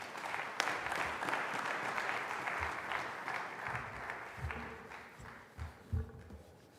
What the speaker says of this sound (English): That clap for all of them.